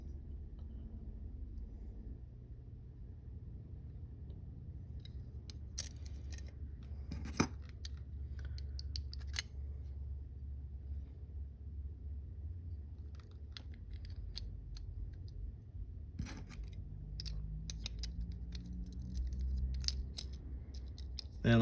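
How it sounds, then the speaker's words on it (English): Cutting Hot Wheels '64 Chevy Chevelle model parts at the notches, heard as a few sharp, scattered snips and clicks over a low constant room rumble, quiet and close. "you're going to want to cut pretty much where these notches are. You're going to cut them off."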